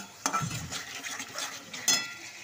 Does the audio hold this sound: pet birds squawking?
no